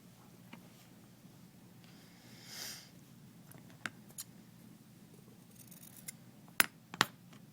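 Scissors trim the corners of a fabric napkin in a quiet room, giving a few faint snips and crisp clicks scattered over several seconds, the sharpest near the end.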